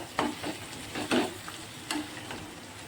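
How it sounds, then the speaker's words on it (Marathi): Stuffed bitter gourd masala frying in a pan, with a steady close sizzle broken by a few louder crackling spurts as it is stirred, no talking. "मसाला पहा फ्राय होतोय चांगला"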